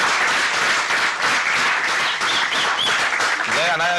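A studio audience at a 1997 television talk show applauds in a continuous, full burst of clapping, with a voice briefly emerging near the end.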